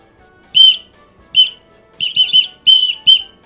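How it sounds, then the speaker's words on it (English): A 3D-printed whistle blown in short shrill blasts, loud and close: two single toots, then a quick triple burst, then two more, with brief silences between. "this is a whistle that I 3D printed"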